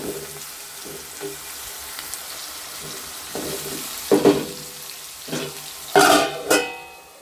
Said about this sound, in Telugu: ముందుగా తగినంత నూనె పోసుకున్నాను కొంచెం లైట్గా పసుపు వేసుకున్నాను ఉల్లిపాయలు వేసుకున్నాను పచ్చిమిర్చి వేసుకున్నాను